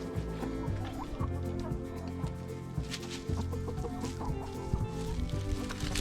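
Backyard chickens in a coop cluck steadily in a busy flock, with overlapping low calls and occasional higher squawks, fairly close and continuous throughout with no talking.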